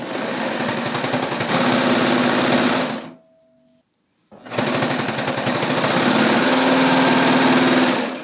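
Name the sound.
sewing machine stitching a raglan sleeve seam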